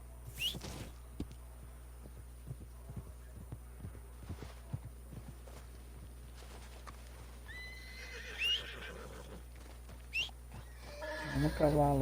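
Horse in the Red Dead Redemption 2 video game whinnying twice with a rising squeal, hooves clopping at a steady walking pace throughout, moderately close, with a short burst of voice near the end.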